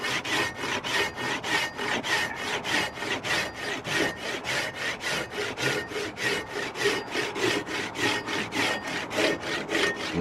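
Hand saw cutting through wood in steady, even back-and-forth strokes, about three per second, close and loud throughout with no talking.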